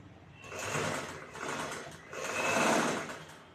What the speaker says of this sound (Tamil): ரெண்டு துணியும் சேர்த்து வச்சு 1/4 இன்ச் அளவில் தைச்சிட்டு வரும்போது